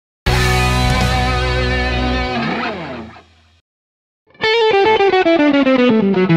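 A distorted electric guitar plays a bluesy phrase that bends and fades out, then after a brief pause a quick run of picked notes rings loudly.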